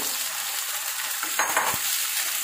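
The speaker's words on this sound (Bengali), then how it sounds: "আমি কিছুক্ষণ তেলের মধ্যে আগে পেঁয়াজ আর শুটকিটাকে ভেজে নিলাম।" Onion and dried fish fry in hot oil, a close, steady bright sizzle with a few louder spits and the scrape of a stirring utensil midway.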